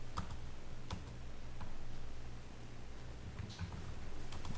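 Sparse clicks of typing on a computer keyboard, a few scattered keystrokes over a low steady hum.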